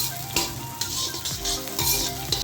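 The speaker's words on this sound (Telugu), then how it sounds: "ఇప్పుడు ఉల్లిపాయ ముక్కలు వేస్తాను" Two small chopped onions fry in a pan for fried idli Manchurian, giving a steady close sizzle broken by a few sharp scraping stirs of a spoon, with no talking.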